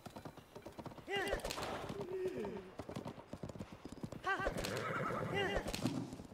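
A horse in Tears of the Kingdom gives two loud whinnies over a steady beat of clip-clopping hooves, close and clear, with a voice talking over the gameplay.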